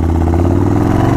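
A Yamaha Warrior 1700 custom motorcycle engine runs with a loud, close, steady rumble and no pauses.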